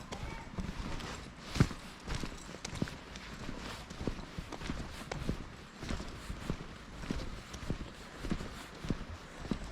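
Horses walk along a path on the Lissan House estate in County Tyrone, their hooves making faint, irregular clip-clops in the distance, mixed with soft outdoor noise and murmuring voices.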